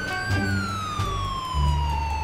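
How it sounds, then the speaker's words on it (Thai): Ambulance siren from the video game GTA V, a loud continuous wailing tone that slowly glides downward, with a faint low engine hum beneath and no talking. "นี่คือผมเปิดไฟไซเรนแล้วนะฮะ"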